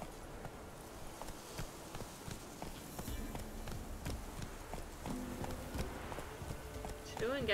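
Horse hooves clip-clopping at a run in the Witcher 3 video game, a steady rhythmic beat under game music and effects, with someone talking over it.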